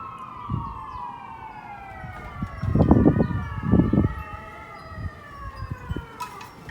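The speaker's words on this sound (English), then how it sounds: "this siren sounds fake" A wavering electronic siren wails steadily, with rumbling thumps and noise swelling beneath it midway through.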